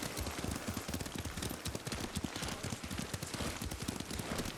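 Horse hooves clip-clopping at a steady riding gait in the Ghost of Tsushima video game, a close, continuous rhythmic patter of hoofbeats with no talk.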